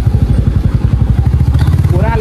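A motorcycle engine runs close by in rapid, regular low pulses while the bike is moved into a parking spot, with a voice speaking over it near the end.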